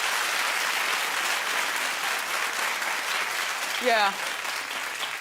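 Studio audience applause from a daytime talk show fills the room as a steady, dense wash of clapping, with a single voice speaking briefly near the end.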